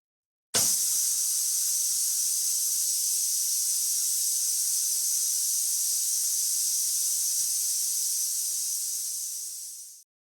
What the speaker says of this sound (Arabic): راح نشوفها مع بعض كيف راح تطالع البخار.